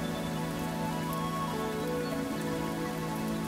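Steady rainfall for relaxation, a continuous dense hiss of drops with low humming tones running underneath, unchanging and close throughout.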